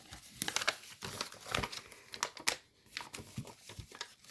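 Origami paper for a fighter-jet model is pressed flat by hand, producing quiet, close crinkling and crackling rustles in irregular bursts, with brief pauses between them.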